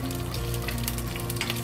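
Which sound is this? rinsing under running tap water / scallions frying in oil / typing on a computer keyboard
scallions frying in oil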